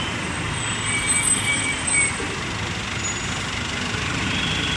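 Regular Palembang–Kartosuro intercity bus idling nearby, a steady diesel engine rumble with broadband hiss and a couple of brief swells, no voices.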